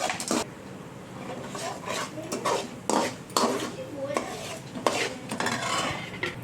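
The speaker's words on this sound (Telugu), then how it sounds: "ఇప్పుడు జీడిపప్పు ఇప్పుడు వేగనివ్వాలి" Cashew nuts frying in oil in a pan for vangi bhat, with a soft sizzle under repeated scraping and stirring clinks of a spoon against the pan, close and intermittent.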